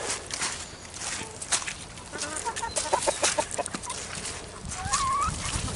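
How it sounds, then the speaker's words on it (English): Several chickens cluck and squawk close by in an irregular, busy chatter, with some shuffling movement and a rustle underneath. "chickens go mental for it"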